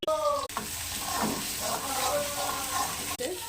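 Mashed arum (mankochu) leaf paste cooking in mustard oil in a pan, a steady sizzle with stirring scrapes running throughout, broken by a couple of brief gaps, close and moderately loud with no talk.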